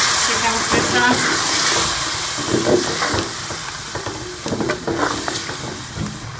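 Chicken pieces coated in whisked yogurt with cumin powder, coriander and salt sizzle and hiss steadily in a pan for White Chicken Karahi, with occasional stirring clatter and a faint voice underneath.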